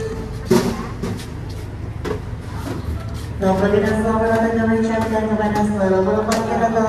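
An economy train pulls into Purwokerto station with a rising, sustained metallic wheel squeal and rumble, after a few louder knocks and clunks near the start.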